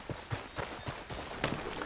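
Horse hooves clip-clop in Red Dead Redemption 2, a steady rhythm of roughly eight soft, evenly spaced hoof strikes at walking pace, moderately close over low background ambience.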